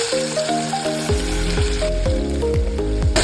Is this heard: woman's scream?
no